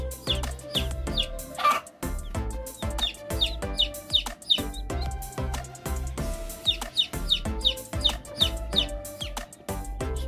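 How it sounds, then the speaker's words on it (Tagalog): Rhode Island Red chicks of a vintage line, dark-feathered, chirping and peeping in quick repeated bursts over a busy, close backdrop of clucks and scratching noises. "Rhode Island Red na vintage line."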